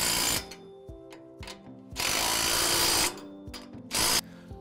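Tightening a May Wes G4 stalk stomper shoe onto its mount bracket on a Drago GT corn head, with ratcheting clicks and loud bursts of a power driver, close and repeated in short runs, with no talk.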